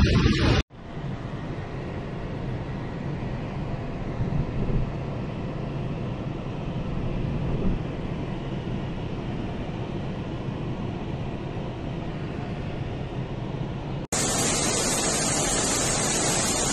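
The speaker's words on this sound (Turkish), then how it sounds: "Gördüğünüz gibi an itibariyle Ağaran Şelalesi coştu." Ağaran Waterfall in Manavgat in full flood, a steady, loud, broadband roar of rushing water that runs continuously for most of the stretch without pause.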